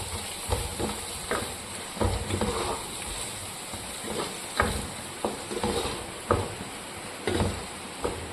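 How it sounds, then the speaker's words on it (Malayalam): Tomato rice mixture with coconut milk being stirred in a pan, a spoon scraping and clacking in a steady rhythm over a low simmering sizzle, close and fairly loud, with no talk. "ഒഴിച്ച് നന്നായിട്ട് ഇത് മിക്സ് ചെയ്യണം."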